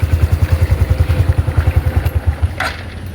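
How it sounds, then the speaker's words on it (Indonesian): A Honda motorcycle engine idles with a steady, close, throbbing pulse, then is switched off and falls quiet after a couple of seconds, leaving only faint background noise. "coba sekarang kita matikan mesinnya yo"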